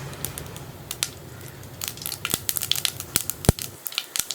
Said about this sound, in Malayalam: കടുക് ഒന്ന് പൊട്ടി തുടങ്ങട്ടെ